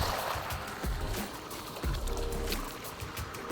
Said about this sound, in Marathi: पाय पाण्यात गेलेले आहेत